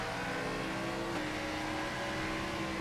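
A NASCAR race car in a video game holds a loud, steady engine roar at full speed through a corner of a road course, with a slight shift in pitch partway through and no voices.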